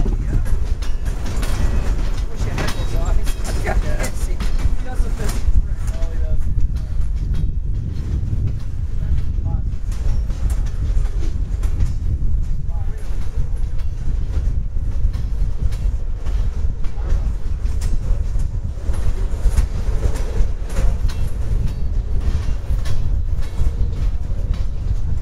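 An empty freight train of auto rack cars rolls past steadily at close range for the whole stretch, a continuous low rumble with faint wheel clatter and people talking nearby.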